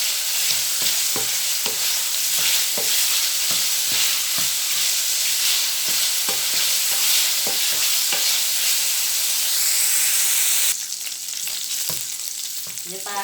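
Pork with garlic stir-fried in a pan in a home kitchen: a steady, loud sizzle with frequent sharp scrapes and clacks of a utensil stirring, the sizzle dropping slightly near the end, with no talking.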